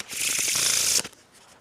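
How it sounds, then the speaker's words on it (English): A Faro shuffle of a deck of playing cards, one continuous close riffle of cards interleaving for about a second, ending in a soft snap and then quiet. "I'm going to Faro shuffle it with a perfect Faro"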